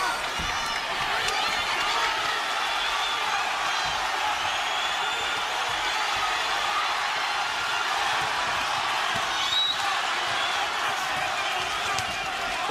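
A Las Vegas boxing crowd roars steadily through a close Bohachuk vs. Ortiz fight, a dense, continuous wall of noise with a commentator talking over it.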